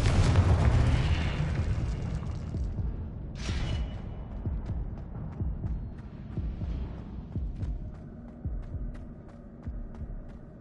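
Booming spell blasts from the Confringo curse in a Hogwarts wizarding video game, a loud low rumbling burst at the start that decays into a sustained throbbing hum with scattered crackles.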